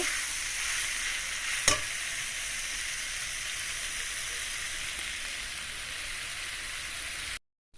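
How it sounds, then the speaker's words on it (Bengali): Elephant apple pickle is mixed with mustard paste, a continuous close hiss and soft stirring wash with one sharp utensil tap near the start, no voices, cutting out briefly at the end. "এখন আমি এটাকে ভালো করে একটু মিক্স করে এভাবে নেড়ে চেড়ে এটাকে সুন্দর করে মেখে নেব।"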